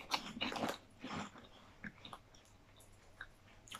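Close-up crunching on cheese curl chips, a few brisk bites and chews in the first second, then softer scattered chewing and mouth sounds, quiet and alone.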